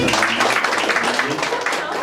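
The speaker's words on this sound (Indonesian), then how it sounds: "Boleh beri tepuk tangan sekali lagi" Church congregation at a Christmas celebration applauds, a broad steady patter of clapping with voices mixed in beneath it.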